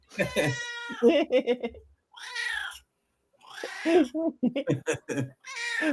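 A house cat meows repeatedly up close: several drawn-out, wavering meows come in bursts separated by short silences.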